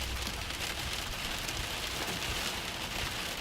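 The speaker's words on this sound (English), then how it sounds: "Look at all that hail falling right now." Dense, steady pelting of hail during a Kansas thunderstorm, a continuous loud hiss-like clatter on surfaces with no breaks.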